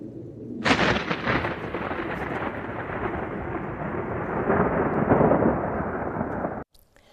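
Thunder snow during a West Michigan snowstorm: a loud rolling rumble of thunder breaks in suddenly, holds a broad sustained roar for several seconds, then cuts off abruptly.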